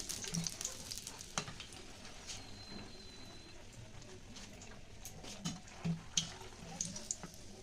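Green pea kachori deep-frying in hot oil, a soft steady sizzle with occasional stirring clinks and bubbling bursts, moderately quiet and close with no talking.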